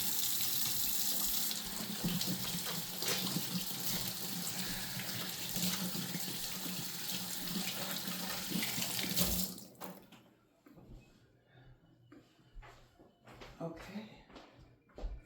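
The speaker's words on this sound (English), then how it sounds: "I'm just gonna wash my hands real quick" Hands washed under a running tap, with a steady rush of water for about nine seconds before it shuts off, followed by faint shuffling and handling sounds.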